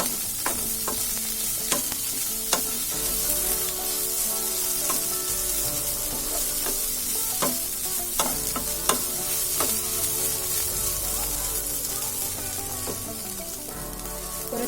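Dried anchovies, nethili karuvadu, frying in oil in a pan, a steady bright sizzle with repeated sharp clinks and scrapes of a stirring spoon scattered throughout, close and continuous with no talking.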